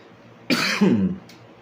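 A person clears their throat and gives a single rough cough, close and fairly loud, followed by a brief breath.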